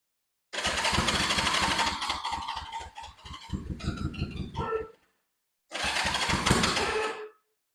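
A Honda CB360 motorcycle is cranked with the starter in two separate attempts. A loud, rapid mechanical churning chugs unevenly for several seconds, stops, then returns for a shorter second try without the engine settling into a run.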